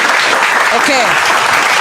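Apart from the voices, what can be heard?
audience applause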